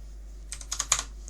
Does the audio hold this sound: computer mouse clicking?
yes